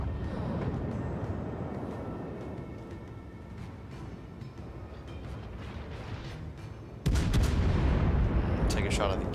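A naval gunfire salvo from a warship in World of Warships, with armour-piercing shells fired at a battleship: a sudden heavy boom erupts near the end after a long stretch of dull rumbling battle noise.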